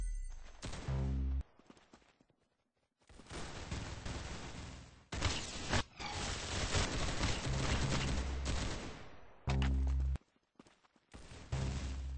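Rapid bursts of gunfire in the Arsenal video game, in several loud volleys separated by brief silences, with no voices.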